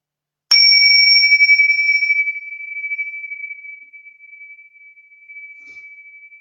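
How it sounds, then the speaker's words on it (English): A meditation bell is struck once to open a session, a bright clear strike that rings on alone in a long, slowly fading pure tone. "So I'm going to ring the bell and bring us into presence"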